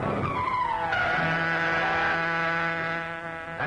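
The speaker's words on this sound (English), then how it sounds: "The car of the Green Hornet." A radio-drama car, the Green Hornet's, speeds off with a loud, sliding tire squeal that settles into a sustained engine whine, heard alone.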